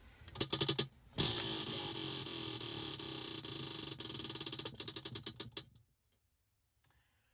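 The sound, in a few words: spinning a clicking prize wheel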